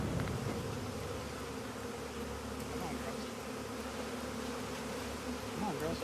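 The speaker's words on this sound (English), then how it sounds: "That's a lot of bees." A dense swarm of bees buzzes continuously and close by outdoors, a thick steady drone with no talking.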